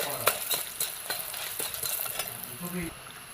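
Dried chilies fry in oil in a pan, a steady close crackle with scattered sharp pops and brief utensil scrapes running throughout.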